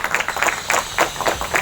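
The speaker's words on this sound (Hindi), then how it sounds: "एक बार उनके लिए भी एक बार जोरदार ताली" Audience at a team-building event in Bodhgaya breaking into loud applause, dense clapping with sharp bursts rising and falling close by, no talk over it.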